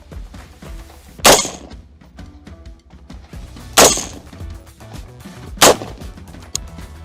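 Three loud, sharp rifle shots in 5.56 and 7.62 calibre fired at a bulletproof plate, spaced a couple of seconds apart, each a sudden crack with a short ringing tail over quiet background.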